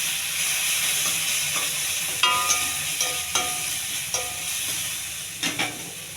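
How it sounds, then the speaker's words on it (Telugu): Onions salted and fried with ginger garlic paste in a pan give a continuous hissing sizzle, broken by several sharp clicks and scrapes from stirring, close and without talk. "పచ్చివాసన పోయేంత వరకు వేగించుకోండి."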